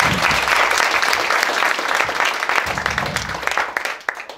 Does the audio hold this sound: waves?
no